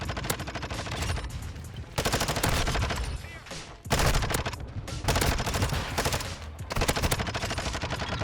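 Rapid automatic gunfire from Call of Duty Modern Warfare 2, dense bursts of shots in several long volleys separated by brief lulls, loud and continuous.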